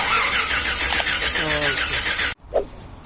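A Chevrolet Silverado pickup with a fuel delivery fault cranks without starting: a rapid rhythmic starter whirring, close and loud, runs for about two seconds then stops abruptly, followed by a brief thud.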